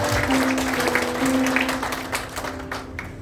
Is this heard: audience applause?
yes